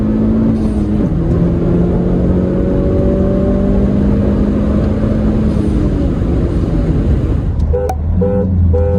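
A car horn toots repeatedly in short, evenly spaced beeps near the end, following a long stretch of loud, revving engine roar.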